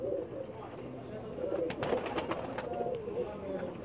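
Pakistani pigeons on a rooftop coo in low, rolling murmurs close by, overlapping with background chatter and a brief rustle of movement.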